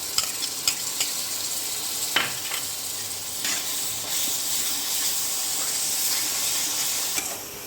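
Ground onion paste fries and is stirred in a pan for chicken pathri, giving a steady, close sizzle and hiss with occasional scraping stirs and no talk.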